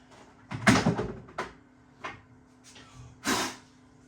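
A Krups The Sub Compact beer tap has its door pushed open, giving a few plastic clunks and clicks followed by a sharper snap near the end, close and moderately loud with no speech.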